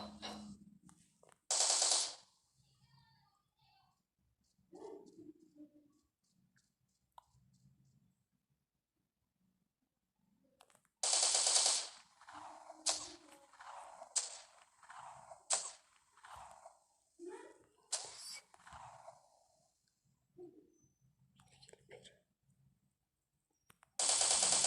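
Gunfire in the video game Counter-Strike, with sharp bursts and rapid rattling volleys of shots in separate clusters broken by quiet stretches, plus faint game sounds between them.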